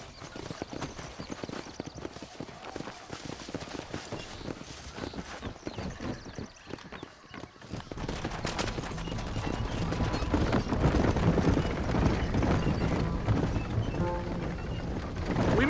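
Steady clip-clop of horse hooves on a ride in the Red Dead Redemption game, rhythmic and continuous, growing louder and busier in the second half with wagon or movement noise underneath.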